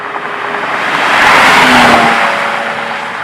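Engine and road noise from a 2020 Toyota TRD Camry on a flat track, swelling to a peak mid-clip and easing off, with a faint tire hiss and a steady tonal whine, heard alone without talk.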